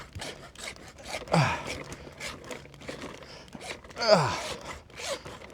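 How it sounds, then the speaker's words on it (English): Metal hacksaw blade rasping in irregular strokes at close range, with a couple of louder grinding pushes and scattered effortful breaths between cuts. "Of course, I'm using a metal hacksaw blade."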